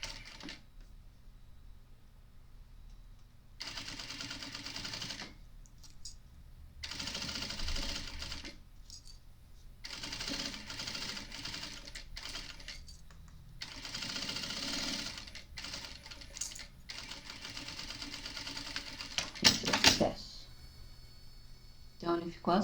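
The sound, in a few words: sewing machine sewing a tote bag seam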